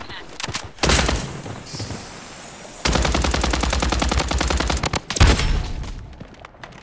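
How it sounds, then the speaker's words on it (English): Rapid automatic gunfire bursts in the shooter game BloodStrike, loud and close, with a short burst early, then a long sustained volley, with voices talking over the shooting. "Taking fire!"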